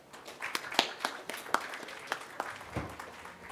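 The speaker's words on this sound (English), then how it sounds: "Let us warmly welcome Ms. Devi Girish with a huge round of applause" Sparse, scattered hand claps from a small TEDx talk audience in Madhapur, a handful of distinct claps spread across a few seconds, fairly faint and thin rather than a full ovation, with no talking.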